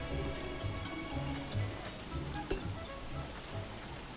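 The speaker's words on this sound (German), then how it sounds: "Und es regnet und regnet und regnet." Steady rain in a video game pours down in a dense, hissing wash with scattered drip sounds, continuous and fairly loud, no voices.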